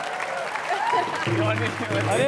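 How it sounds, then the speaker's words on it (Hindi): An audience claps for comedian Johnny Lever at a televised comedy stage show, a continuous wash of applause running beneath a host's voice. "जोरदार तालियां जॉनी लीवर के लिए होनी चाहिए"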